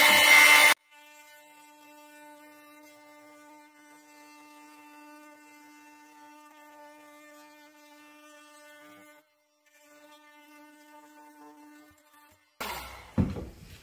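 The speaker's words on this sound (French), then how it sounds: "Et puis avec le multi-outil, on avance tout doucement." An oscillating multi-tool cuts slowly through wood for acoustic panels on a mezzanine, producing a thin, even buzzing whine held for several seconds. It drops out briefly, then resumes, with louder knocks at the start and end.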